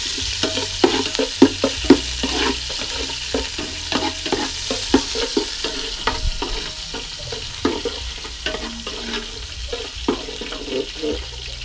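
Garlic stir-fried in a pan in a rural village kitchen, a lively sizzle broken by repeated scraping and clattering strokes of a utensil, close and fairly loud, with no talk.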